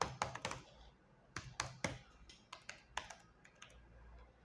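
A username is typed on a computer keyboard: quiet, irregular bursts of crisp keystrokes with short pauses between them, close by and with no voices.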